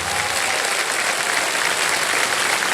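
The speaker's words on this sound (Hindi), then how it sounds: "और तालियां बज जाए इनके लिए" On the game show Kaun Banega Crorepati, a studio audience applauds with loud, sustained, even clapping that stays close and steady throughout, with no voices over it.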